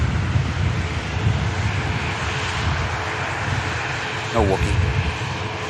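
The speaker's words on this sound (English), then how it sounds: "EasyJet 320 coming in from Geneva next." An EasyJet Airbus A320 arriving from Geneva on approach at Manchester Airport, a steady broad engine roar at moderate distance, with a brief spoken remark near the end.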